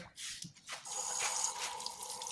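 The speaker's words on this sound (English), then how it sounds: "rinse it again, gently rinse it, put it back in the tray, cover it up" Gentle running water rinses sprouting seeds in a white tray, a steady near splash and trickle lasting a couple of seconds with no talk.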